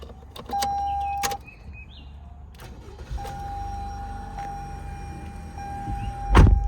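A 2022 Toyota RAV4 LE starting up: a brief mechanical whir and clunks, then a steady low engine idle with a faint tonal hum, ending in a louder thump close by.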